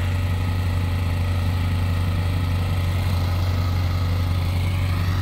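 A snowblower engine runs steadily in a snowy driveway, a constant low, throbbing idle-like drone with no change in pace, close and loud, with no voices.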